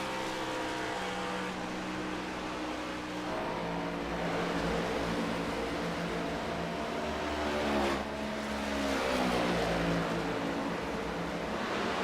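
A race car engine in an iRacing video game drones steadily at high revs, its pitch shifting slightly as it climbs and drops through a continuous, fairly distant roar with no talk over it.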